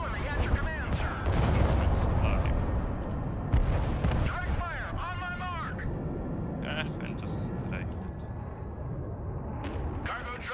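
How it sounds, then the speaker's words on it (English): Artillery fire in the war strategy game Broken Arrow, with heavy booming shots and rumbling blasts over continuous battle noise, and voices talking over it. "Dropping artillery there."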